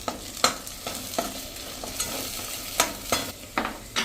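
Kashmiri red chili powder and coriander-cumin spices frying in oil for a winter undhiyu, stirred in a series of scraping strokes over a steady soft sizzle, close and fairly quiet with no talking.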